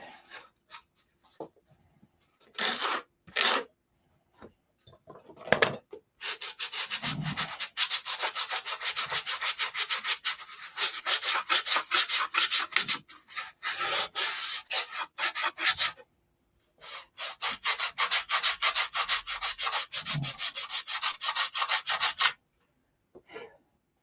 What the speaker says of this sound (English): it's the hardest part is sanding them ribs